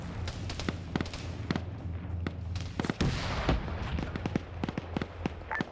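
Missiles slam into a turret in a military video game, setting off a heavy explosion about halfway through amid scattered sharp cracks and distant gunfire pops, with a low rumble running underneath.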